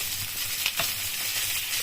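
Crispy pork coated in flake flour frying in hot oil, a steady close sizzle throughout with a couple of brief louder crackles near the middle and no talking.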